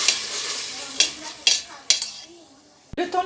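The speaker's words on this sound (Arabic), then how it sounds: "البصلة مع الزيت" Onion and parsley frying in butter and oil in a pan, a hissing sizzle punctuated by several sharp stirring knocks against the pan, close by, fading toward the end with a final clatter.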